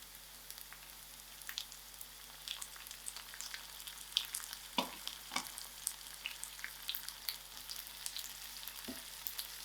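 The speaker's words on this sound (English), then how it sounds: "I'll allow the garlic to fry a little." Garlic frying in a pan with onions and dry chilies: a steady, soft crackling sizzle with scattered sharper pops and a few light stirring knocks, heard up close with no talking.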